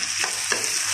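Corned beef sizzling with potatoes in a hot pan, a brief steady hiss with two quick stirring scrapes, close and unaccompanied by voices.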